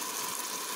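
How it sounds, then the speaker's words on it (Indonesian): Pepper and nutmeg stir-frying in a pan, a steady soft sizzling hiss that holds even through a brief moment, with no voices. "Terus di gongso sampai harum"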